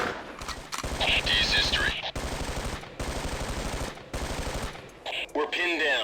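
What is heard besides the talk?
gunfire in the video game Ghost Recon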